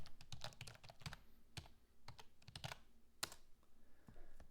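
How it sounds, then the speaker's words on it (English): Keys clatter on a computer keyboard as a web address is typed in, a quiet, close run of irregular clicks with short pauses. "we're just going to type in My Chance Up"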